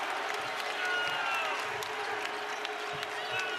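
A basketball arena crowd rises and cheers at a college game against Seton Hall, a dense, steady roar of voices and clapping filling the space at a fairly even level throughout.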